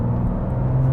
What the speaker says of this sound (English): this car's got a ton of torque, so we get a little bit of acceleration